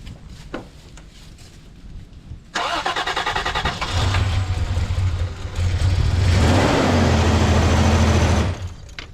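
An old junk car engine jump-started with an Avapow A68 jump box: a short starter crank, then the engine catches with a loud roar and settles into a rough idle before cutting out near the end.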